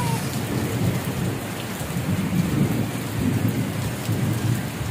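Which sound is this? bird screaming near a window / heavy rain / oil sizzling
heavy rain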